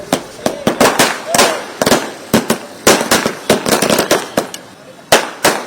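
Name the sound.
firecrackers bursting at celebration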